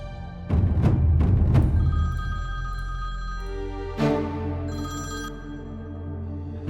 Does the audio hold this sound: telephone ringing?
yes